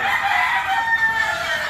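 An asil broodcock crows close by in a breeding pen, one sustained, strained cock-a-doodle-doo call loud and clear with no talk over it.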